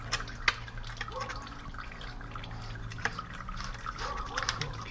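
Motor oil draining from a 2011 Kawasaki ZX6R motorcycle during an oil change, a faint, close trickle and patter of liquid with a few sharper drips under quiet background noise.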